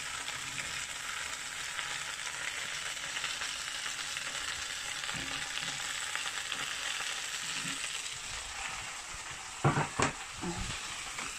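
Leek and potato fry in a small saucepan with a steady, loud, continuous sizzle throughout, joined near the end by a few brief knocks of stirring.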